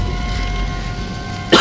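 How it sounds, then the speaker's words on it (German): One sharp, close cough bursts out at the very end, after a steady hum from a horror video game playing in the background. "Ich hoffe, dass das Husten nicht so laut auf YouTube kommt."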